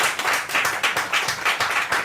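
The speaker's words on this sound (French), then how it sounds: "On applaudit Seigneur pour sa vie." A congregation at a church service applauding, a brisk rhythmic clapping at an even pulse that keeps up loud and close for about two seconds, with no talking over it.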